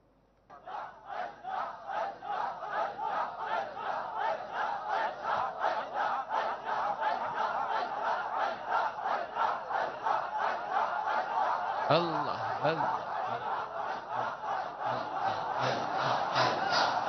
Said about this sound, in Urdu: یہ کچھ نعرے لگا رہے ہیں یہ